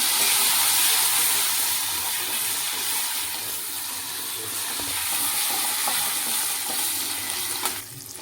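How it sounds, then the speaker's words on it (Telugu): Curry leaves crackle and sizzle in hot tempering oil for amla rice, a steady close hiss of frying that runs the whole time with a brief sharper burst near the end. "చూసారా తాలింపు వేగింది ఇప్పుడు కరివేపాకు వేసుకున్నాము"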